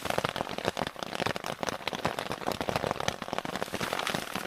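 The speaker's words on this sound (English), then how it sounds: "It's still raining super hard here." Heavy rain falls steadily in the mountains on an overnight hike, a dense, even hiss of drops hitting surfaces with crackling spatters throughout.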